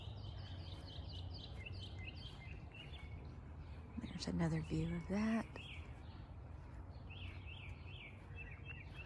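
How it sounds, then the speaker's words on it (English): Birds chirp and sing in a home garden, with repeated small calls running through the background while a person speaks briefly in the middle. "I love the sound of the birds."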